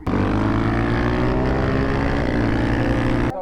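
A 2009 450cc dirt bike engine drones steadily at close range, holding a loud, even, high-revving tone with layered harmonics for the whole stretch before cutting off at the end.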